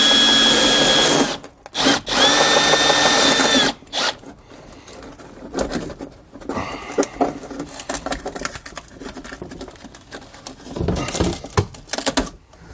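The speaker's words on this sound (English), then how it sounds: "I'm going to drill this hole out" A power drill whirs loudly in two short bursts near the start, drilling out a hole during an RV install, followed by quieter clattering and handling noises.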